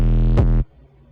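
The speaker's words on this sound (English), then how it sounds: "no longer have the organic bass sound like this" Organic bass from a song: a sustained, full low note with rich harmonics plays steadily, then cuts off abruptly after about half a second, leaving only faint residue.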